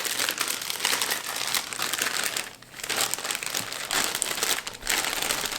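A large plastic sous vide bag is opened and folded back over its sealing edge, giving continuous close crinkling and crumpling with two brief pauses and no talk.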